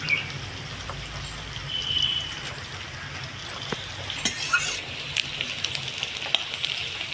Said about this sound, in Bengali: লাল করে পেঁয়াজটাকে ভেজে নেব আমি।